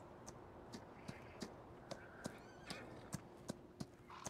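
A horse in Farming Simulator 19 clip-clops at a steady walking pace, hooves striking in even, fairly soft beats with a faint snort or whinny partway through.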